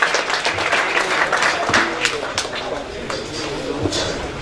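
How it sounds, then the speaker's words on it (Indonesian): A crowd at a heated public discussion claps warmly for Rocky Gerung, a thick, continuous wash of applause heard close up with a few louder hand claps and scattered voices mixed in. "mungkin kita berikan tepuk tangan dulu buat apa yang sudah disampaikan oleh Bung Rocky Gerung"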